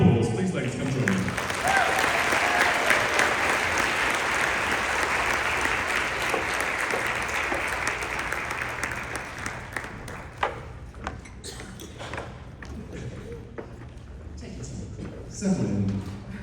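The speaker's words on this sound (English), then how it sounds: "Can I ask you to give a big round of applause?" A live audience applauds panelists coming up on stage at a public relations editors panel, steady sustained clapping that fills the room before slowly thinning out, with a few scattered claps and a voice toward the end.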